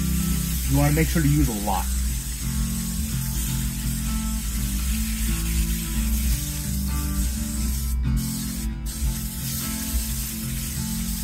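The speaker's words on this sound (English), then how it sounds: "take your can of Easy Off, shake it up a little bit, and really coat the pan super well." A can of Easy Off oven cleaner sprays steadily over a cast iron pan beside a trash bag, a continuous close hiss with a few brief breaks, under a person talking.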